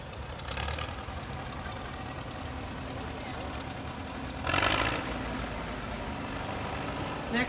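A 1944 Case tractor engine idles with a low, steady chug as it rolls in a parade, joined by brief bursts of hiss and crowd noise, with a voice speaking over it.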